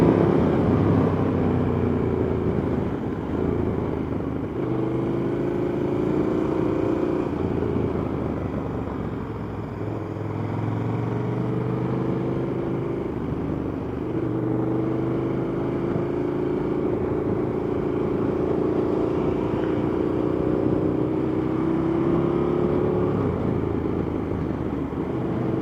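A 2014 KTM Super Duke 1290 R ridden on the road toward Phillip Island raceway, a steady low engine drone with rising and falling pitch as it accelerates, wrapped in continuous wind rumble.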